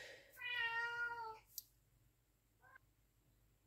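A house cat indoors gives one drawn-out meow followed by a shorter, fainter one, both quiet and somewhat distant with no talking.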